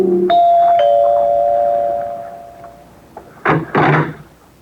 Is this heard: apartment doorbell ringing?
yes